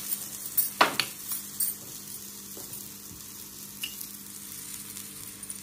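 Onion frying in a pan for Maharashtrian pithla, a soft continuous sizzle with a few early clinks and scrapes of a spoon against the pan, close and fairly quiet, no talk.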